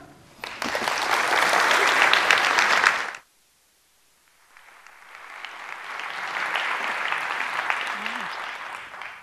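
Audience applause welcomes a lecturer at an evening lecture on preventing pandemics. A loud burst of clapping is followed by a brief silence, then a second sustained round of applause from a large crowd.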